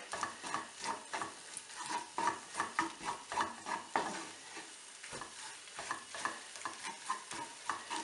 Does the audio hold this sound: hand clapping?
no